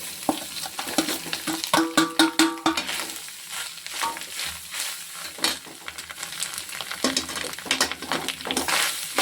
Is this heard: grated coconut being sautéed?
yes